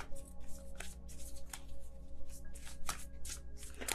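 Tarot cards shuffled by hand in a steady run of soft slides and crisp snaps, close up and continuous over a low room hum, no voices.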